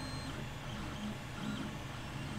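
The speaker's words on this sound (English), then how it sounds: "It's printing pretty fast too." A Creality Ender 3 3D printer prints at roughly 50 mm per second. Its stepper motors give a steady, close whirring hum whose tones rise and shift continuously, with no voices.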